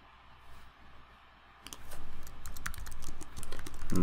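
Login credentials being typed on a computer keyboard: a quick run of close, crisp key clicks that starts after a short quiet stretch and continues steadily to the end.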